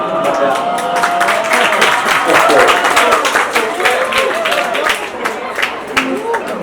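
Audience applause during a live kitchen demonstration at a cookware launch event, a steady wash of clapping at close range mixed with overlapping voices and crowd chatter throughout.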